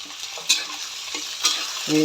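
Green peas frying in a pan with green chili and crushed ginger make a soft sizzle, broken by two short scraping stirs and a clink near the end.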